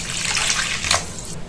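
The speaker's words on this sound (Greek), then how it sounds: "Θα προσθέσουμε νερό, 400 γραμμάρια νερό," Room-temperature water pours steadily into a bowl holding sourdough starter, a bright continuous splashing gush that rises briefly near the end before tapering off, close and alone.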